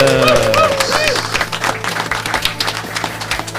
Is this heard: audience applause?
yes